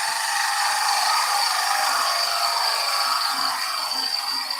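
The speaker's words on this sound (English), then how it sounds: "Your right hand is pushing up the length of the tool, allowing the bevel to slide along the surface." Gouge cutting spinning wood on a wood lathe, a steady bright hiss of the tool shaving the surface, close and continuous with faint low rumbles beneath.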